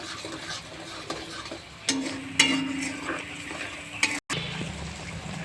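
Jackfruit curry is sautéed in a pan, with a steady spoon-on-pan stirring scrape over a soft sizzle and a few sharper knocks, one brief dropout near the end.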